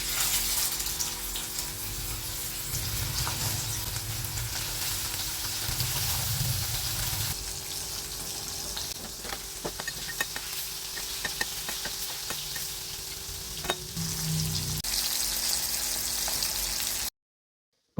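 Palkurichi fish frying in hot oil in a wok, a continuous crackling sizzle with watery hiss and occasional clinks and scrapes, steady and close with no talk.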